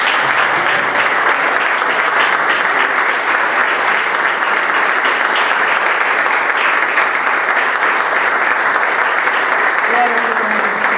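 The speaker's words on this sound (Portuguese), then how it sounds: "Você pode dar uma salva de palmas para Jesus?" A church congregation at a worship service claps in a dense, loud, continuous wash of applause that holds steady for about eleven seconds, with faint voices mixed in.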